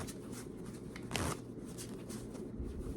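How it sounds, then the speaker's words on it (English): A deck of playing cards is shuffled at a normal pace, giving a soft riffling rustle with one brief louder riffle burst near the middle, close and alone over a low room hum. "So my shuffle, kind of just at a normal pace,"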